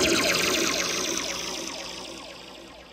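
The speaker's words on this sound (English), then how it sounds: "I use it for swelling sounds and other kind of trippy effects." A Korg K-Oscillator Pro XY synthesizer plays a swelling, trippy effect, a dense shimmering wash of warbling tones. It sounds alone and close, starting loud and slowly fading over about three seconds.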